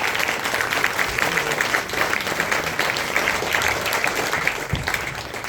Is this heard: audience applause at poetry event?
yes